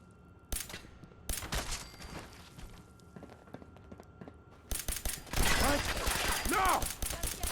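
Rockets being fired in a video game, with bursts of explosive blasts and rapid bangs, sparse early on and then a dense, loud barrage toward the end, while voices talk over it.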